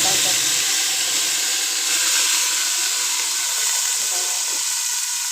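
Tomato paste masala roasting in a pan gives a steady, close sizzling hiss that runs the whole time, with no talk over it.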